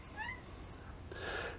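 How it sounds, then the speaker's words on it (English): A cat meows twice, close by, on a sunny morning: a rising, drawn-out call first, then a brighter, louder mew near the end, over low background rumble. "there's a cat down there wondering why I'm completely ignoring the cat"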